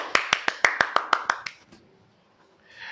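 Pupils in a maths lesson clapping hands more loudly: a quick run of about eight crisp, evenly paced claps, then quiet with a faint rustle near the end.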